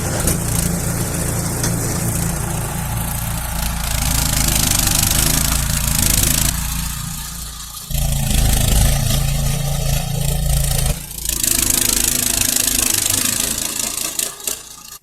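A cheap snow blower engine runs under load for testing, a loud, steady mid-pitched mechanical drone that dips briefly around the middle and near the end before surging back up.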